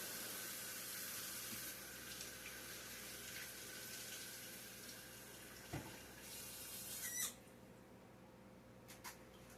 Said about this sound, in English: Let me wash this off right quick